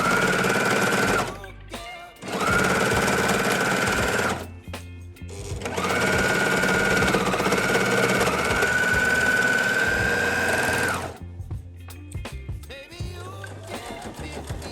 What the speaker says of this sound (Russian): притачиваем на оверлоке